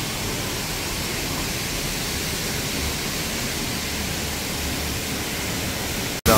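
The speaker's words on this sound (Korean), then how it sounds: "저 뒤쪽으로 폭포가 떨어지는 모습이 보입니다." Steady, loud broadband rush of Hongryong waterfall at Hongryongsa temple in Yangsan, Korea, a continuous roar of falling water that fills the scene without a break and ends with a brief sharp interruption.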